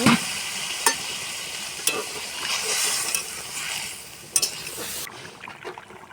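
Ash gourd bubbles and simmers in a pan after water is poured in, a continuous watery hiss with a few sharp clinks of a utensil, dropping quieter near the end.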